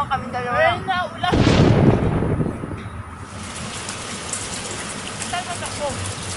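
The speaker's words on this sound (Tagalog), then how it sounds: "Uy, malakas ang ulan, no?" Heavy rain falls outdoors at a hacienda, surging into a loud, dense hiss after a short voice and then settling into a steady, softer downpour, with faint voices returning near the end.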